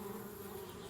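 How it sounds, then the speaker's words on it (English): Bees buzz around a tree house in the Anna's Quest video game, a continuous close droning hum with no talking. "Darn bees, trying to move into our tree house."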